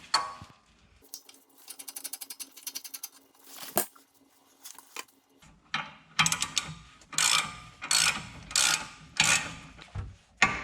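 A rapid mechanical ratcheting from a GearWrench ball joint spreader on a BMW E39 M5's suspension, clicking in quick bursts, then louder irregular metallic cranking strokes close by, with brief pauses between.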